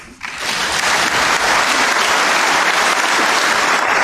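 Loud, sustained applause fills Gabon's National Assembly hall at the opening of a transitional parliamentary session, swelling quickly after a brief quiet start and then holding as a dense, even roar of many hands.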